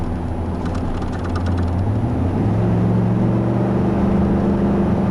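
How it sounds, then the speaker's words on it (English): A 2012 Ford F-150 Harley-Davidson Edition with a V8 engine pulling along under way, a low, steady rumble whose pitch climbs as it accelerates, heard from inside the cab with no talking. "I love the sound of that V8."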